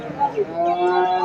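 A calf lows at a busy cattle market ahead of the Eid sacrifice season, a drawn-out, nasal moo rising and wavering close by over a constant murmur of voices and market bustle.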